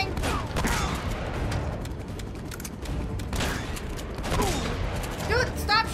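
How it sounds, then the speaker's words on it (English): Bursts of gunfire in the video game Uncharted: Drake's Fortune form a dense, steady barrage of shots and booms, with voices heard over the din. "Dude, stop shooting me."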